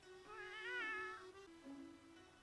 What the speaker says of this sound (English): I love anime cats. They're always so cute.